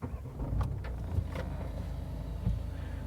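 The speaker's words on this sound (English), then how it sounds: "let me just pop the engine on for a few moments" A 2019 DS 3 Crossback's engine idling, a low, steady rumble with muffled, wind-like noise throughout and a few faint knocks or clicks near the car.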